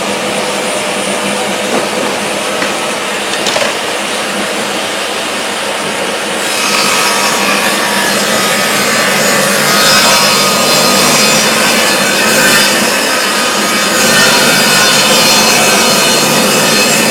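A power saw with a soft start and a blade brake cuts through wood, its high, rasping whine building louder partway through and holding steady, close and alone without any talk.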